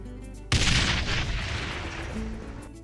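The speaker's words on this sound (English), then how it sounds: "That was a rip snorter of an explosion" Explosives go off in Ty the Tasmanian Tiger 2, a sudden sharp boom after a quiet moment that rolls into a long, fading rumble, loud and close with no speech.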